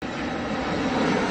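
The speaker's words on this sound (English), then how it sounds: "Cargo plane." Cargo plane engine droning loud and close, a thick steady roar with a low rumble beneath, unbroken across a brief burst.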